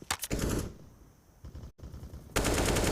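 Counter-Strike gunfire crackles during an eco round on Mirage in an ESL Pro League match: rapid loud bursts open the clip, scattered shots come midway after a brief gap, and a dense volley closes it.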